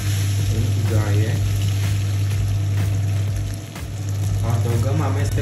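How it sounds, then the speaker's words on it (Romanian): Spaghetti carbonara pasta sizzles and fries in a pan, a steady close crackle with a low hum underneath and a voice talking over it. "Pastele vor continua să se gătească în tigaie."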